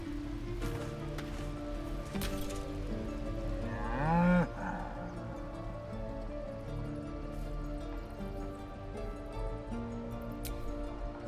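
An ox in a video game lets out one drawn-out, low moo midway, rising over a steady game ambience of droning tones, with no talk.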